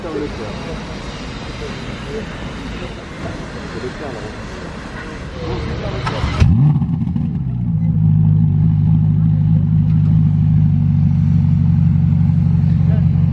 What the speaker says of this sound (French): Petit start-up de la Roma de Leclerc du coup.